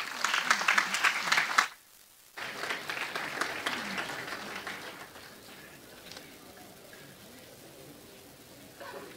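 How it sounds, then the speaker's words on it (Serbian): Audience applause for a church choir at the opening of a choral festival, a dense burst of clapping that cuts off briefly, resumes strongly, then fades to scattered claps. "Pozdravimo horiste još jednim aplauzom."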